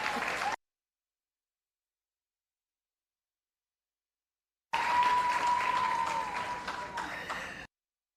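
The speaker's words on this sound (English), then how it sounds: "And you can clap me too." Audience applause at the Marcus Garvey Awards for Excellence in the Performing Arts ceremony, a brief burst of clapping that cuts off, then after a long silence a fuller wave of applause lasting a few seconds before fading.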